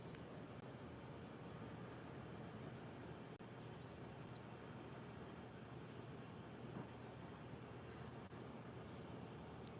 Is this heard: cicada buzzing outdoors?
yes